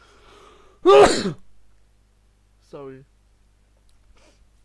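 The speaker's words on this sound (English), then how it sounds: "I think I'm gonna sneeze." A single loud, close sneeze bursts out near the start, followed by a brief spoken apology and then near silence.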